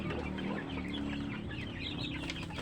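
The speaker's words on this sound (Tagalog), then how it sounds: "So, ayan po yung aking mga manok nagkalat." Several chickens cluck and murmur nearby, overlapping soft calls in a steady barnyard chorus with no talking.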